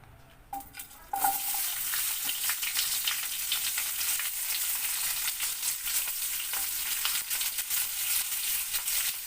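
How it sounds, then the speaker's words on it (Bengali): Chopped onions hit hot oil with a sudden loud burst of sizzling after a brief quiet tap, then a dense, steady frying hiss continues close up with faint stirring. "পেঁয়াজগুলোকে আমি এখানে দিয়ে দিলাম"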